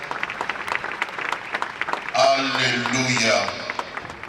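A church congregation bursts into clapping and cheering after a spoken exclamation, applause swelling loud for a couple of seconds at a memorial gathering, with voices over and under it.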